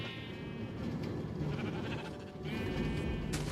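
Several sheep bleat in Minecraft, with a couple of wavering calls over a steady, dense game background.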